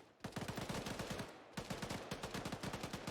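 Rapid automatic gunfire in a milsim video game battle in woodland, two sustained bursts of evenly spaced shots separated by a brief pause, fairly close and alone.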